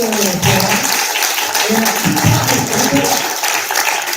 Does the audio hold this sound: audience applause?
yes